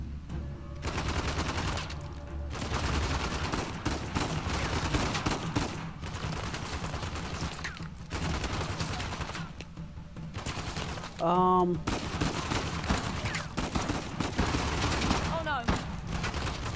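Gunfire in Uncharted: The Lost Legacy, with shotgun blasts mixed into dense, continuous shooting and explosive bursts over a long firefight, one sharp ringing hit standing out, while a person speaks briefly over the din.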